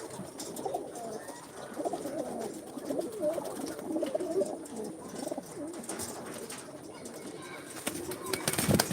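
Pigeons coo near an open cage among other poultry and ducks, a steady murmur of soft calls running throughout at moderate level, with people talking in the background.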